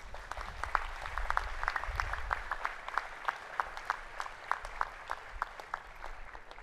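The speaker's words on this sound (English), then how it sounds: "A round of applause is in order." A convocation audience at CEPT University claps for faculty and administration, steady moderate applause with sharp individual claps throughout, no speech over it.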